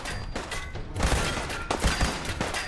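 Gunfire rings out in an online multiplayer game as a handful of sharp shots and a heavier burst, loud and close, with no voices over it.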